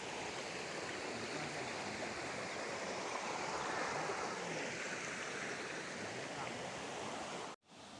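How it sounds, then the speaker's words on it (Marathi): A Konkan village stream near Rajapur flows steadily toward a waterfall with a constant babbling wash of water, unbroken until a brief cut near the end. "पुढे जाऊन ते व्हाळ पुढे पुढे जात आहे आणि तिथे वॉटरफॉल आहे"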